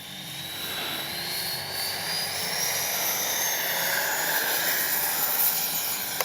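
A HobbyKing FlyCat V2 RC jet plane flies overhead during a stall test, its engine giving a steady, hissing whine that shifts slowly in pitch as it passes at a distance, with no talk over it.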